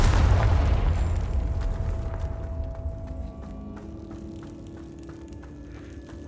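Confringo spell blast in Hogwarts Legacy, a heavy booming explosion at the start that rumbles and decays over several seconds, with faint ticking and tonal game sounds trailing after.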